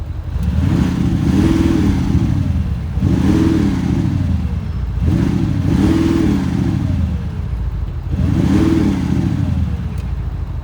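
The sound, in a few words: Audi SQ7 4.0 TDI Quattro engine accelerating on test drive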